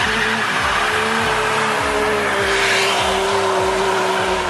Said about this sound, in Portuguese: com um glorioso som Ferrari